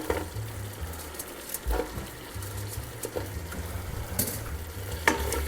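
Carrots go into a pot of simmering Thai coconut curry soup, producing a steady close sizzle and bubbling with soft stirring knocks and scrapes against the pot, no talking.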